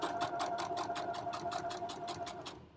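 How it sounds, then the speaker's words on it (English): Sewing machine top-stitching right along the folded edge of a facing on fabric for short stays, a steady fast rhythmic chatter of needle strokes running close and clear before stopping abruptly. "I'm sewing just right on the edge of that fold"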